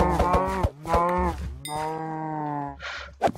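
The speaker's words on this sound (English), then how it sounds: "I guess we're going to have to kill some cows." Cows in the Minecraft video game moo several times in a row, drawn-out lowing calls with a couple of short grunts, clear and close with no speech.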